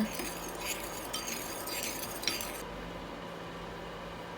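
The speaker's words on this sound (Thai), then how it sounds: "น้ำมันงาหนึ่งช้อนโต๊ะค่ะ คนให้เข้ากันนะคะ" Metal utensils clink and scrape in a dish while soy-sesame sauce with sesame oil is stirred for steamed tilapia. Light, quick taps come up close, then stop, leaving a faint room hum.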